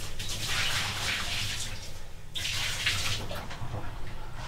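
Antifreeze pours into the shower drain of an RV being winterized, a continuous splashing, gurgling stream of liquid that keeps up throughout with small swells and dips.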